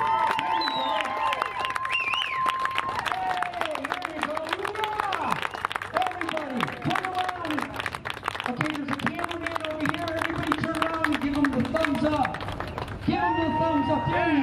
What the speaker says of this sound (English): Make some noise, cheer him on, get him up there.